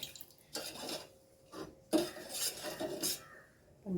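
A spoon stirs and scrapes through coconut water pudding mixture in a pan, giving intermittent close clinks and scraping strokes separated by short quiet gaps, with no voices.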